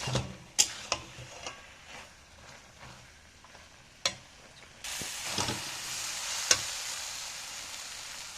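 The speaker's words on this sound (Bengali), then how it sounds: "মশলাটা ভালো করে মিশিয়ে নেব" Spices are stirred into boiled potatoes and peas in a frying pan with a little oil for ghughni: a steady sizzle with sharp spoon clicks and scrapes against the pan, the hiss growing louder partway through, with no talk.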